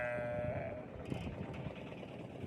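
A sheep gives one drawn-out bleat at close range on a farm where sheep and goats are kept for sale, the call fading into a steady murmur of background noise with no talking.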